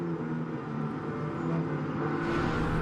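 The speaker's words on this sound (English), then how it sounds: "Britt Casey Jr. powers back into gear." Race car in a 2018 broadcast race powering back into gear, a sustained engine roar that rises in pitch as it accelerates, steady and moderately loud at a distance, no talk.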